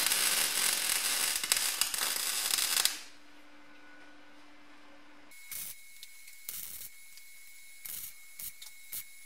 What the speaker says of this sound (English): I gave the pieces a final test fit and then welded the bottom one in.